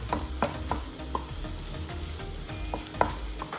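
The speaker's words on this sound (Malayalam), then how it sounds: "ഇഞ്ചിയും പച്ചമുളകും ചേർത്ത് കൊടുക്കുക ഇങ്ങനെ ഇളക്കി കൊടുക്കാം" Ginger and green chillies fry in hot oil in a pan while a spoon stirs them, giving a steady sizzle broken by regular scraping strokes about every half second and no talking.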